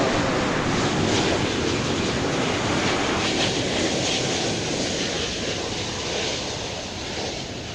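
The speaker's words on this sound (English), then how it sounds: "here comes the 777 from LAX" A 23-year-old Boeing 777 jet, American flight 5 Heavy arriving from LAX at DFW Airport, gives a loud sustained broadband roar that slowly eases off, with no voices.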